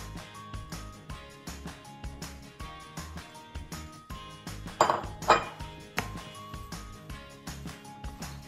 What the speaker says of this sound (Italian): mischiamo bene così va in ogni parte dell'impasto